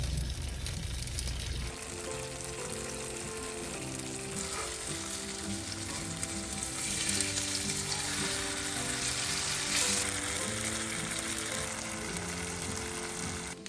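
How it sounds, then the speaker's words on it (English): Tofu slices pan-frying in oil give a steady, moderately quiet sizzle and crackle that continues throughout, with a brief louder burst at the very start. "I'm gonna pan fry them on both sides."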